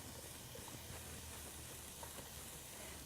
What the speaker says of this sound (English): Oh, it's starting to sizzle already.